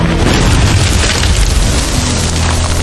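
A loud, sustained grenade explosion roar, dense and rumbling throughout, with heavy low-end boom and crackling debris noise.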